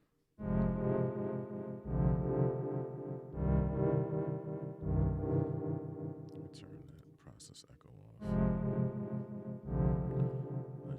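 A sustained, droning synth tone run through FL Studio's Fruity Delay Bank with high-pass filtering and an inverted first echo plays in repeating loud swells. A brief burst of scattered high, glitchy echoes sounds partway through.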